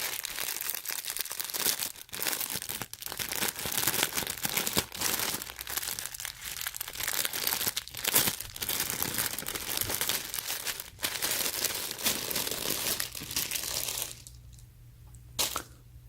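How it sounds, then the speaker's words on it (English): A plastic bag crinkles and crumples continuously as an embroidered T-shirt is pulled out of it, with sharp rustling bursts and brief snaps, quieting near the end. "So let's go ahead and get this out of this bag."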